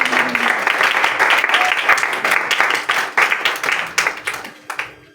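A church congregation at a Palm Sunday service breaks into loud, dense applause that holds steady, then thins into scattered claps and fades out.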